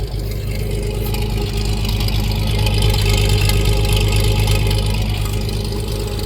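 A car engine runs steadily on a drive, a loud, close, continuous rumbling drone with a slightly uneven throb and no voices.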